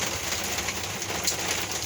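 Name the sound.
rain falling outdoors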